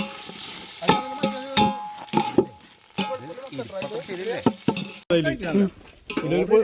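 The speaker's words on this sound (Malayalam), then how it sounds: "വെങ്കായം ഇളക്കിക്കോ" Sliced onions sizzle and are stirred in a biryani pot cooking outdoors, with repeated scraping strokes over a steady fry and occasional clinks of utensils.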